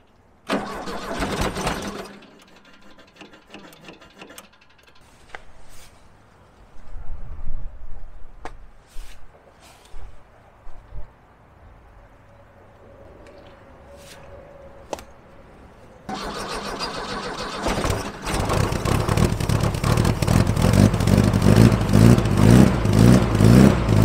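A 1974 VW Beetle engine cranks and catches briefly at the start, sputters and stumbles through quieter stretches, then fires up and runs loudly and steadily close by for the final several seconds.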